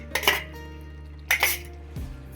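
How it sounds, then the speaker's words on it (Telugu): Fried eggplant and potato pieces tipped into a pan of gravy, giving two quick clattering knocks of metal on the pan followed by a soft thud, close and fairly quiet with no talking. "ఈ వంకాయ బంగాళదుంప ముక్కలను అయితే వేసేసుకుందాం"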